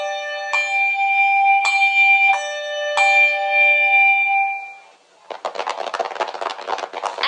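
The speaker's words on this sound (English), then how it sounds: "I waited for my turn to ring my bell." Several handbell strikes ring out one after another, each clear tone sustaining and overlapping, loud and close, before the ringing fades and gives way to a burst of rustly noise.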